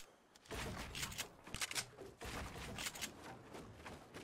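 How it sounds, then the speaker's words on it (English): Gunfire in the Fortnite battle royale game: several distant shots and short bursts crackle across the clip at a moderate level, with no talking. "I swear I heard someone shoot."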